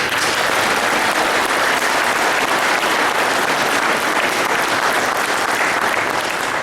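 Audience applause at a crewmen's meeting, steady dense clapping from a room of people that holds loud and even throughout without a break.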